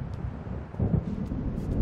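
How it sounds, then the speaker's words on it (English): Distant thunder from an approaching storm in the Alan Wake video game rolls as a low, heavy rumble that swells midway, with a faint wind-like hiss on top. "It seems there's a storm coming."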